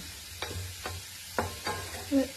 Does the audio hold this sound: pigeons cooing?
no